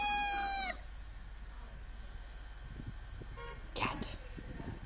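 A cat gives a loud, drawn-out meow at the start, then a shorter cry follows a few seconds later amid background noise and people talking.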